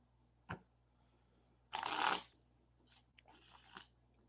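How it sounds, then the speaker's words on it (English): A deck of oracle cards being shuffled, with a short riffle burst in the middle and a few softer flicks before and after, close and fairly quiet with no talking. "I love how these cards are so easy to shuffle."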